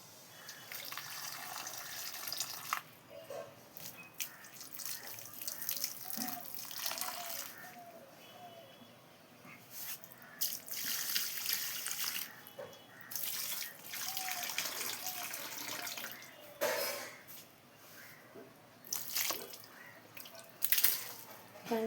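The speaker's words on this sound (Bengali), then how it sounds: "অনেক দিন কিন্তু গাছে জল দেওয়া দেখানো হয়নি আজ দেখি দেখিয়েই দিই" Water poured while watering plants, with repeated gushing and splashing pours that start and stop, each lasting a few seconds, heard close by without talking.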